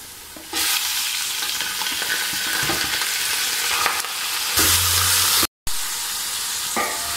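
Meat goes into a pot of onions and sizzles loudly as it is stirred, a dense frying hiss with scraping and clatter from the spoon, then a short break and more sizzling.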